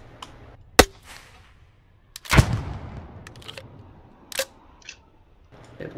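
Gunshots aimed at the player in a tactical shooter game, with a few sharp, loud cracks spaced irregularly and a heavier blast around the middle, followed by smaller pops; no talking.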